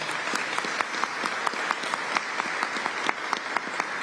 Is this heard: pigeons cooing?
no